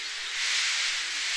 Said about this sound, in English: Henry still stayed in the tunnel and blew steam at him